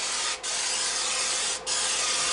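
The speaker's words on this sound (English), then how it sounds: "spray some oil down on the bake pan there" Cooking oil sprayed onto the bake pan of a Kalorik MAXX air fryer oven grill: a steady, close hiss of aerosol spray with two brief pauses, no voices.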